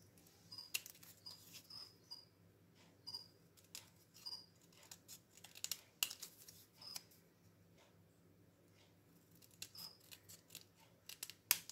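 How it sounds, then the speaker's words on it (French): Repeated crisp snips of small scissors cutting small paper labels, coming in short irregular bursts with brief pauses, close by and fairly quiet. "Je vais reprendre mes petits ciseaux pour redécouper les petites étiquettes."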